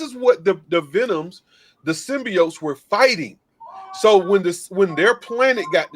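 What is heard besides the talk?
No distinct noise like a dog, phone or traffic.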